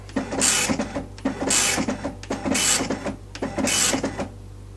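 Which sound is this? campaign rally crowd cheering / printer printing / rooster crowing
printer printing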